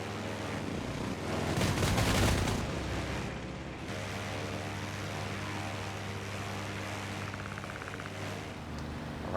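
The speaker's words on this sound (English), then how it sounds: "Right below me, that IL-10 looks like he's strafing that F-51" An IL-10 attack plane strafing an F-51 Mustang on a runway in IL-2 Korea: a loud droning propeller engine with a brief burst of rapid gunfire rattling near the start, then the engine hum continues steadily.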